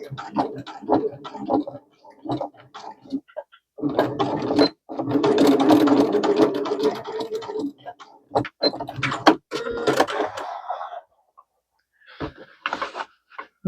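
A sewing machine stitching a seam in old denim jeans being upcycled into a sewing basket, close-up bursts of rapid mechanical whirring, one long run in the middle and shorter spurts, separated by pauses and handling clicks.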